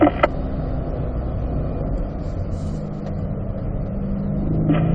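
A car engine holding a steady, fairly loud drone while driving down a short straight, with a slight rise in pitch toward the end and no voices.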